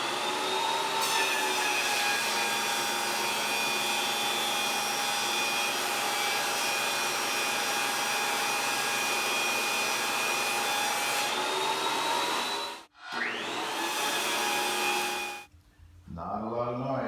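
A Shop Fox W1877 planer feeds a soft maple board 3½ inches wide and 48 inches long, giving a steady, loud, whining roar that holds for about twelve seconds, then drops out, briefly resumes and stops.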